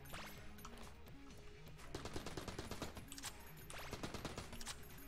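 Gunshots in Enter the Gungeon, a steady patter of quick repeated shots in clusters over continuous game music, moderately loud throughout.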